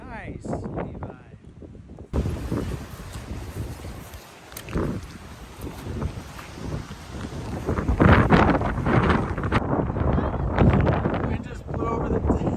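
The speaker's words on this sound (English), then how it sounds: "Wind just blew over the basket." Wind gusting across an open disc golf course, rough buffeting rumble on the microphone rising and falling throughout, with people talking over it.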